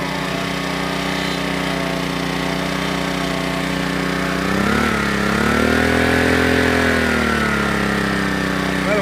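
A vintage Honda E300 generator engine runs loud and close with a steady, buzzing drone, its pitch dipping briefly midway before settling slightly higher.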